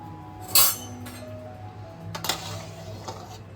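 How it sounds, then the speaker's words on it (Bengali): A cooking pot lid lifted off a pot of simmering moong dal gives one bright metallic clink, followed by softer clatters a moment later in a quiet kitchen with no talk. "এবার আমি ঢাকাটা খুলছি।"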